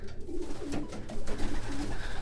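Pigeons coo in a breeders' loft, several soft, low, repeated cooing calls overlapping close by, with rustling and background noise in between and no talk.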